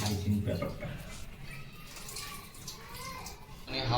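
Cooking items rinsed under running water in a home kitchen, a continuous splashing stream with faint drips, moderately close, with a person talking over it.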